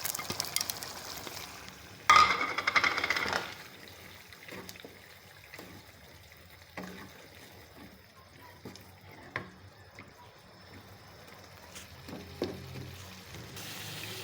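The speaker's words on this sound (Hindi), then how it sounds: "इनको मैं 2 मिनट के लिए इसमें भूनूंगी।" Frozen peas fry and sizzle in a pan, opening with a loud hiss as they hit the oil, then settling into a quieter crackle with occasional stirring scrapes.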